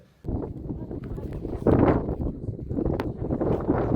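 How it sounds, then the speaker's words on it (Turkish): Wind blowing steadily outdoors, buffeting the microphone in rough gusts, with people talking loudly over it. "Bura böyle esiyor. Her zaman küfür küfür."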